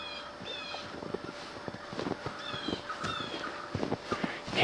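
Wild turkeys in a flock call from somewhere ahead across a clover plot, a scatter of yelps and clucks rising over wind and rustling, moderately distant and repeated irregularly, with no talking.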